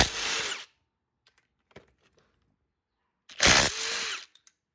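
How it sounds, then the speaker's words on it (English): Two loud bursts of a power tool whirring while loosening a 14 mm tensioner bolt on a Honda D16Y8 engine, one brief and one longer, separated by near silence with a few faint clicks. "that's what power tools do"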